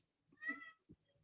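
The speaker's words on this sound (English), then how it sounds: "Well, stop meowing." A house cat gives one faint, short meow, with a small soft thump just after, heard in a quiet room.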